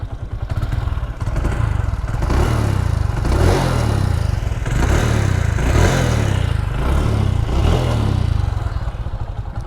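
A TVS Victor 3-valve motorcycle engine is revved close up by twisting the throttle, rising from idle into several loud, rhythmic surges with a clattery mechanical edge, then dropping back between blips.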